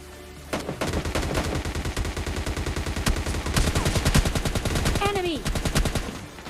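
Rapid bursts of automatic gunfire from a PUBG Lite battle, dense cracking volleys nearly continuous for several seconds, loud and close, with a brief rising whistle-like effect near the end.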